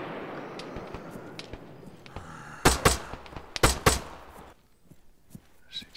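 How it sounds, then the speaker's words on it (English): Gunfire in the zombie survival game Ravage on Tanoa: a few sharp, loud shots crack out in quick clusters, with fainter scattered distant shots before and after over a low rumbling background. "they're definitely firing in my direction now"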